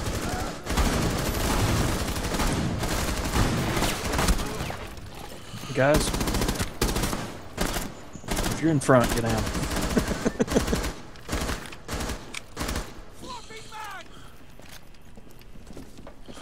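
Rapid bursts of gunfire from a multiplayer shooter game ring out in dense volleys with short pauses, loud and close, while several players talk over the shooting.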